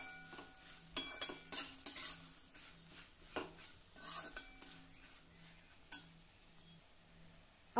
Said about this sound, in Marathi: हे मिक्स करून घेऊ।